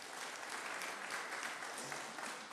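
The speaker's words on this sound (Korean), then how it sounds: "우리 박수로 한번 환영하시겠습니다." A church congregation claps together to welcome a newly married couple called to the front, a dense, steady wash of applause filling the room without pause.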